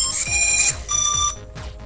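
A cheap S119 brushless drone plays its startup sound, built to mimic DJI: a short, close electronic chime of a few clear melodic tones, heard alone.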